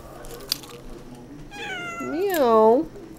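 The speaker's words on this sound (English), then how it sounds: "there's a kitty" A house cat meows several times in a row, clear and close, the cries rising and falling in pitch against a quiet indoor background with a brief click before them.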